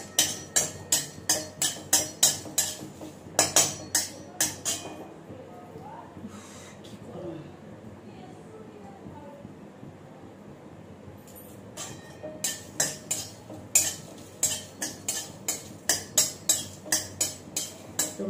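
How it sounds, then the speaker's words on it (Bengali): Dried red chillies dry roasting and being stirred in a pan for a spice masala: rapid sharp scraping and rattling bursts in steady rhythm, close and fairly loud, pausing for a quieter stretch in the middle before resuming. "শুকনো লঙ্কা দিয়ে দিচ্ছি প্রথমে, তো এগুলো ড্রাই রোস্ট করে নিতে হবে।"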